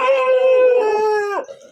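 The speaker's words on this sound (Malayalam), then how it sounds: "ഫുള്ള് പട്ടികൾ." Dogs howling in a single long, loud, close wail that holds steady before breaking off and trailing away at the end.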